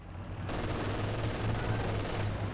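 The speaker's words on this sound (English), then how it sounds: "lots of machine guns. So many machine guns." Sustained machine gun fire from the World War II strategy game Company of Heroes 2, a dense, continuous rattle of overlapping bursts that swells in at the start and holds loud and steady throughout with no talk.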